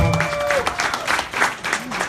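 A live podcast audience greets a guest with applause that rises and falls in uneven bursts, with crowd noise and a few brief tonal sounds mixed in.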